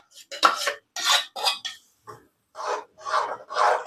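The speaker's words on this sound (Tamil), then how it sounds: "கரண்டி வச்சே வளைச்சி விட்டுக்கோங்க," A ladle scrapes and clanks against a pan while stirring tomato thokku as it fries. The scraping comes in short bursts with brief pauses between them, close and fairly faint.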